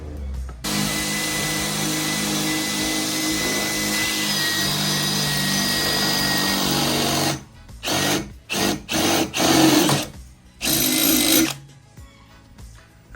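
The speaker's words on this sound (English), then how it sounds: "Joe drilled the holes." A power drill boring holes for mirror mounts during a car conversion: a loud, steady whine for about seven seconds, then several short bursts as the trigger is pulsed on and off.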